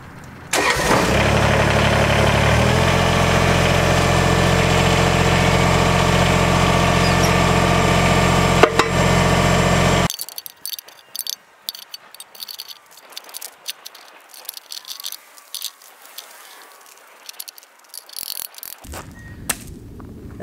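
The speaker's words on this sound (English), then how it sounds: "All right, I'm gonna start the tractor up, lift it up a bit." A Kubota BX23S compact tractor's diesel engine cranks, catches and runs at a loud, steady idle close by for about ten seconds, then cuts off, leaving faint background noise and scattered clicks.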